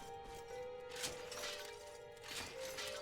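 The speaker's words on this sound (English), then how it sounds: "I'm just gonna shatter all these jars and such." Clay jars being smashed in Dragon Quest XI, a few bright crashing shatters spaced about a second apart over a steady tonal backdrop of game music.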